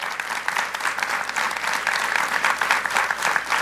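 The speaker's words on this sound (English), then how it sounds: "Can we give all of them a big round of applause?" A large audience at a parent leader forum with the mayor and schools chancellor breaks into a loud, sustained round of applause, with dense clapping that stays steady throughout and no talk over it.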